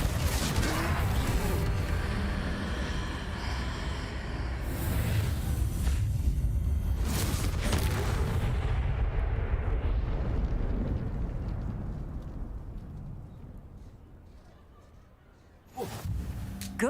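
Confringo fire spells in Hogwarts Legacy erupt in loud, rumbling blasts that roar almost continuously, then die down to a quieter tail before one more sharp burst near the end.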